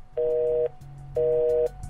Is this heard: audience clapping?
no